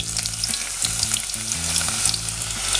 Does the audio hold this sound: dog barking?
no